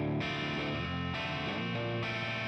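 An electric guitar played through an amp plugin with the gain pushed into gritty, distorted breakup, sounding as three strummed chords that each ring out fully, with no voice over them.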